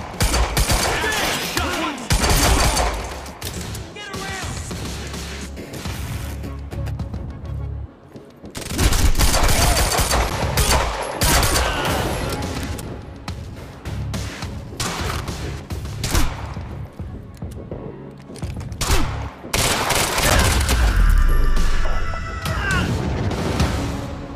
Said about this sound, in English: How the hell is Monarch firing at us?